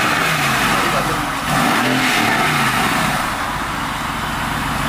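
Car engine revving and pulling up nearby, a loud rumbling motor sound that rises and dips, steady throughout with no talking.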